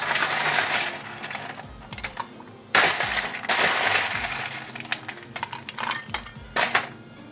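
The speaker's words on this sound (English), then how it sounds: "all we're going to do is add our shaker ice" Ice cubes clatter and rattle into a metal cocktail shaker tin for a Gordon's Cup, loud crunchy bursts of tumbling ice close by, with no talking.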